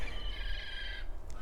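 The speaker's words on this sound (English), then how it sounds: "oh, listen to those birds" Birds sing outdoors as a faint, steady, high warble behind a low background rumble, with no talking.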